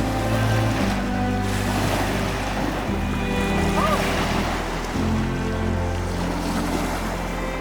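Waves washing continuously onto the stony shore of Lake Superior, a loud, broad surging wash with gusts of wind on the microphone and no clear break between swells.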